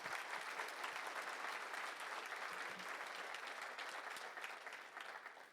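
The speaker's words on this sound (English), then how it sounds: "Give a round of applause." Conference audience applauding at the end of a talk on virtual reality development with Unity, a steady wash of many hands clapping that holds evenly and then begins to thin out, moderately distant and without speech.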